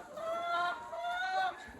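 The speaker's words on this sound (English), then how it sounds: "they're pretty popular with the chickens already" Chickens in a coop cluck and murmur around new rollaway nest boxes, a steady run of soft, close, overlapping clucks with no pauses.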